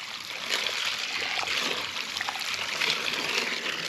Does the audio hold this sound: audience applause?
no